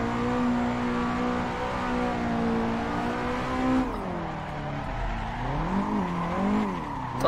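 A Nissan 180SX street car drifting in the Assetto Corsa racing game, its engine droning and revving continuously with rising and falling pitch as it slides through corners, with no talking over it.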